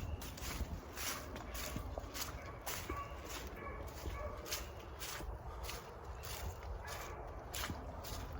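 Far off in swampy woods, a beagle hound on a hunt bays repeatedly in an irregular chain of barks, faint and distant against a steady background hiss.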